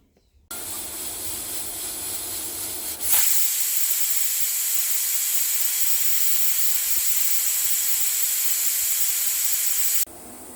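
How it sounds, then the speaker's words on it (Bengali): A pressure cooker on an induction cooker releasing steam, a loud steady hiss that starts abruptly, swells stronger after a few seconds, holds constant and then cuts off sharply. "আমি প্রেসার কুকার খুলে দেখতেছি"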